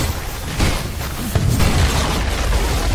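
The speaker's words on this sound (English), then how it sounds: "Radiant's middle tower has fallen." A tower crumbling in the Dota 2 video game, a loud, dense booming rumble with crashing debris that swells and sustains across the moment, no talk over it.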